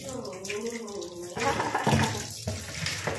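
Cold tap water running into a sink while things are washed by hand, a continuous splashing stream with a voice speaking briefly early on, close by.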